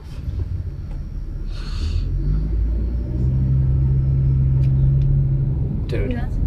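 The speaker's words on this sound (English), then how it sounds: "A car drives. This guy is right behind." A car rumbles steadily close behind, its low engine drone swelling and staying loud throughout, with brief voices talking over it.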